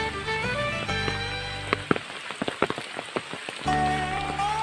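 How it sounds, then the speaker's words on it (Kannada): Steady heavy rainfall patters throughout a forest, with a tonal drone at start and end and a scatter of sharper drops or knocks in the middle. "ಮಳೆ ತುಂಬಾ ಬರ್ತಾ ಇದೆ"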